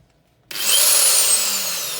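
Einhell TC-ID 1000E impact drill starts abruptly after a short silence, then whines loudly and steadily, its pitch rising as the speed increases and holding near a constant high level.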